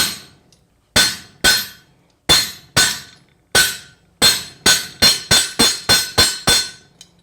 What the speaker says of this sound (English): I'm going to use the edge of the anvil to actually spread that into a ball